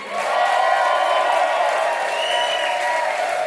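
Crowd at a New York one-liner comedy contest breaks into sustained applause mixed with cheering and a few whoops, steady and full throughout the short burst.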